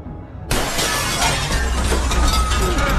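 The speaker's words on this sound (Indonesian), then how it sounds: "jendela pada ruang tunggu hancur akibat kuatnya serangan badai" Window glass in a hospital waiting room shatters under a violent storm, a sudden loud crash bursting in after half a second of low rumble, then a sustained spray of breaking, tinkling shards over roaring wind.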